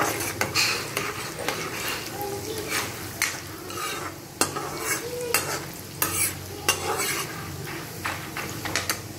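Split urad dal and chana dal are stirred in a hot pan, a spoon scraping and clinking in repeated strokes over a constant crackling fry, close and fairly loud, with no voices.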